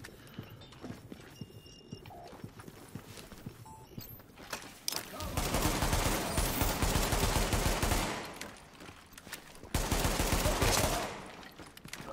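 Gunfire aimed at the player in the shooter game The Division: scattered cracks at first, then two long, dense bursts of rapid automatic fire, loud and close, with quieter shots between.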